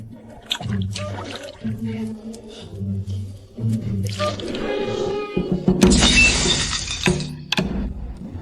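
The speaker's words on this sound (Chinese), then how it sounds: "我保证不会再摔碎了。" Bowls and dishes shatter with a sharp, bright crash while being washed in a kitchen, breaking out after a stretch of people talking and fading to quieter speech.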